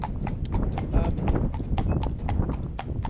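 Morgan horse hooves clip-clop in a quick, even rhythm on a hard surface, close by, with a faint low rumble underneath.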